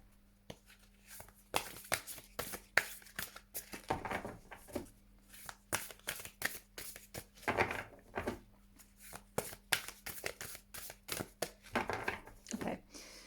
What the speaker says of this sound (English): So let's just do a quick shuffle